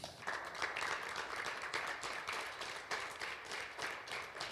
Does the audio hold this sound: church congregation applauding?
yes